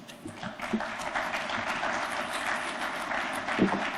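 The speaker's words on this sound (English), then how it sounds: "Please keep the applause going for our keynote lecturer of the day" A lecture audience applauds steadily after a keynote speech, a dense wash of clapping that holds for several seconds with a brief swell near the end.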